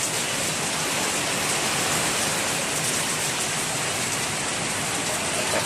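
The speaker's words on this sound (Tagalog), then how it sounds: "Malakas yung ulan." Heavy typhoon rain pours down steadily behind a house in Baguio City, a dense, continuous roar of water hitting surfaces with no pauses and no voices.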